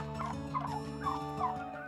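A turkey in Lampung, Indonesia, gives a string of loud, ringing calls, several short bursts repeating roughly every half second against steady background noise.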